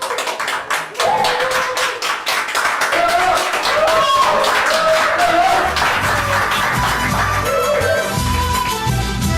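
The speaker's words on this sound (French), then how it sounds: "on peut donner un très beau tour d'applaudissement, bien sûr, aux gens ici du Centre Prisme" Audience applause for the Centre Prisme staff at a Peruvian culture discovery evening, steady clapping that fills the room while voices carry on over and under it.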